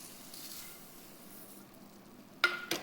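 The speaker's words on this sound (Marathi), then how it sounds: "पूर्ण मिक्स बनवून घ्यायचे।" Bhel of puffed rice tossed with spices, a spoon of salt, tamarind water and sev, mixed in a bowl: a soft, steady rustling stir, then two sharp clinks close together near the end.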